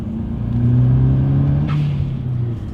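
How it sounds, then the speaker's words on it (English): A straight-piped car exhaust rumbles loudly in a higher gear with a deep, steady droning tone that swells slightly louder as the engine pulls, heard up close with no talking. "you can hear the exhaust gets louder"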